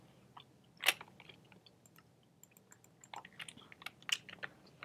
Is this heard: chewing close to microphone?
yes